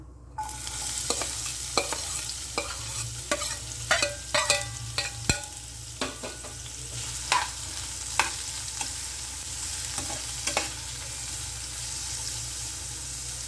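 Finely chopped white onions sautéing in a pan for mushroom masala, with a soft steady sizzle under repeated sharp clinks and scrapes of a spoon stirring against the pan.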